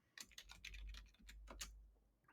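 Rapid close typing on a computer keyboard while entering an SQL query, a dense run of light clicking keystrokes that trails off near the end, quiet, with no speech.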